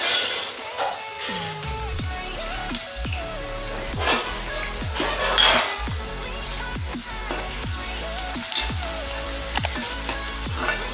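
Onions and green chillies frying in hot oil make a steady, close sizzle, with repeated spatula scrapes every second or so and no talking.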